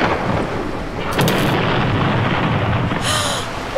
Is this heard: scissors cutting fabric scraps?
no